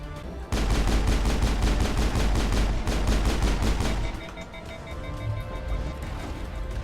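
Rapid automatic gunfire from the video game Mass Effect rattles in dense, loud bursts for a few seconds, then breaks off into quieter background game sounds.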